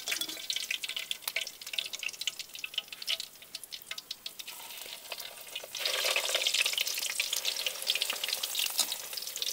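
Dried snakeskin gourami fish sizzles and crackles in hot oil, loud bursts of frying giving way to quieter spitting and then a fuller, steady sizzle near the end, with no voices.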